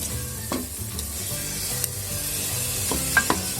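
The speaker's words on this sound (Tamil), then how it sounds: "இப்போ தயிர் சேர்த்துக்கிறோம்." Yogurt added to frying masala for kambu biryani, a steady close sizzle with spoon stirring scrapes and a few sharper clinks against the pan.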